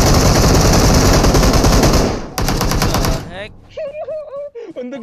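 Rapid automatic gunfire in a tournament match of an online shooter game, loud and continuous for a few seconds, then stopping as a voice talks excitedly.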